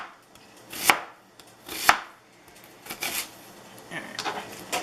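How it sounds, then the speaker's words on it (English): A knife cuts an onion for yaka mein, with two sharp, loud chops close by, followed by softer scraping and tapping against the board. "I told y'all I don't cut a perfect onion."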